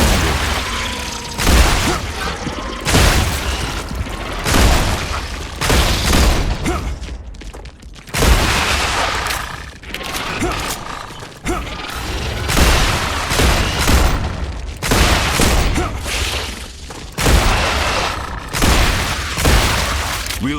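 Rapid gunfire and booming explosions from a sci-fi shooter game, dense repeated shots in bursts with heavy low blasts, loud and continuous throughout.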